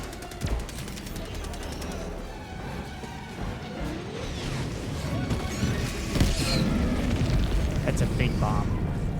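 Air strike explosions and heavy gunfire in a Starship Troopers-style shooter video game, a dense, continuous roar of blasts and rattling fire with several sharper booms, loud throughout, with a voice speaking over it.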